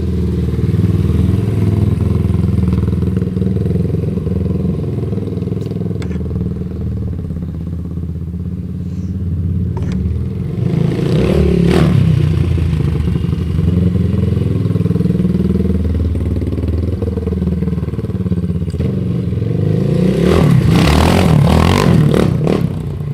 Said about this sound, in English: To me, it kind of revved like a 450 motocross bike. It revs out. It definitely revs.